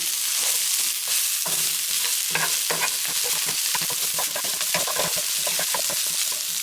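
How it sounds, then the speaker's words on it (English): Pumpkin seeds frying in a pan as a utensil stirs them, a steady sizzle close up with scraping strokes and light rattling across the pan, no voice. "And I'm gonna keep stirring, otherwise the pumpkin seeds are gonna burn."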